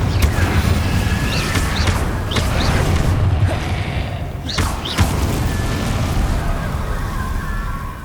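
In Hogwarts Legacy, a Confringo blasting spell erupts amid a loud, dense rush of magical combat noise, with sharp whooshing casts and heavy thudding blasts cutting through a constant rumbling roar.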